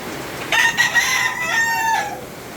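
A gamefowl rooster crows once nearby, a clear, strained cock-a-doodle-doo of about one and a half seconds rising and then trailing off, over faint background noise.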